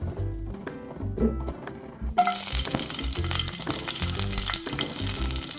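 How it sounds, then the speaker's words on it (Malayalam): Chopped onion hits hot coconut oil for an egg curry, bursting into a loud, steady sizzle partway through after a quieter stretch with faint knocks, then crackling evenly to the end. "ഉള്ളി ഇതുപോലെ ചെറുതായിട്ട് മുറിച്ചെടുക്കാം വെളിച്ചെണ്ണ ചേർത്ത് കൊടുക്കാം"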